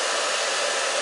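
A blow dryer runs at a constant loud, airy whir throughout, close and with no talk over it.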